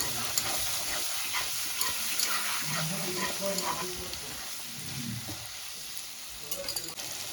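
Mutton pieces fry and sizzle in a pan while being stirred, a steady broadband sizzle holding at moderate level throughout with scraping stir sounds and faint background voices.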